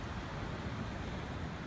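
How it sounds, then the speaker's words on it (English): Ocean surf on the Gulf of California near Santa Rosalia, Baja Peninsula, at night, heard as a steady, fairly faint wash of waves with some wind rumble and no voices. "Maybe you can hear the waves."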